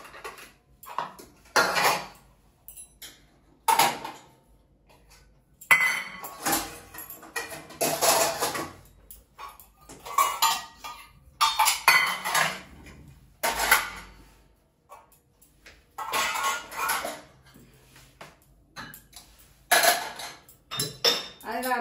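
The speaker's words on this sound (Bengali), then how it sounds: "সেজন্য বাসন কটা তুলে রাখি।" Dishes, pots and cutlery clink and clatter in repeated bursts as kitchenware is put away, with quiet gaps between the handling sounds.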